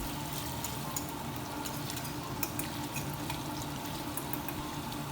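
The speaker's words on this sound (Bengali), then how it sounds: "সেটাই এখন কড়াইতে দিয়ে দিচ্ছি বেশি কড়াভাবে একদমই ভাজবো না হালকা মিডিয়ামে ভাজবো" Paneer pieces fry in a kadai over medium heat, giving a continuous close sizzle with light stirring and clinks running through it.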